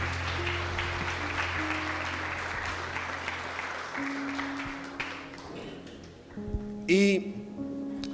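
Church congregation applauding, a broad wash of clapping that fades out after about six seconds, leaving a short ringing tone with music underneath throughout.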